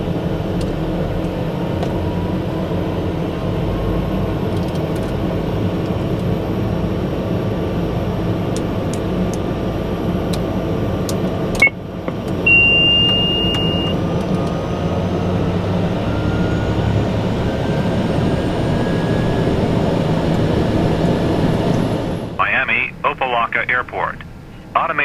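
Simulated TBM850 turboprop engine starting in a flight simulator, a loud steady turbine roar and whine that builds gently and holds. A short beep and a click come partway through, and the sound changes and breaks up near the end.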